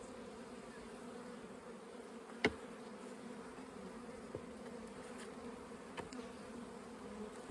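Honeybees from a small salvage colony drone steadily on a brood frame, a close, continuous buzz with a few faint knocks and taps along the way.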